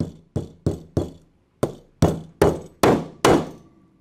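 Nine sharp hammer blows drive rivets into a Flexco R2 rivet hinged belt fastener set in an R2T applicator tool, ringing metallic impacts with short decays, evenly spaced apart from one longer pause, close and loud with no talking.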